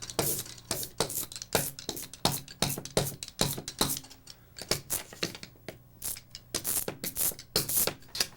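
Ink is scraped off a carved woodblock during printmaking, a rapid series of sharp, dry scratching strokes, close and fairly loud, uneven in rhythm with brief pauses, no voices.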